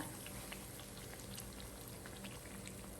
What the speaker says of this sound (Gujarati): મીડિયમ ટુ લો ફ્લેમની અંદર આપણે માલપુઆને ફ્રાય કરવાના છે.